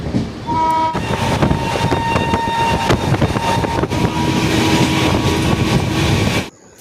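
A passenger train slowing down on the route from Dalkhola to Siliguri rumbles loudly and steadily over the rails, with a horn tone at the start and a clattering wagon noise throughout before it abruptly cuts out.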